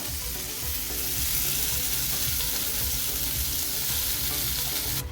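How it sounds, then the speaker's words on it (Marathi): Prawns frying in a pan after being flipped, spicy crispy Agri-style, over a medium flame: a dense, even sizzle that stays close and loud throughout, with a faint crackle and no voices. "आपली कोळंबी छान फ्राय झालेली आहे"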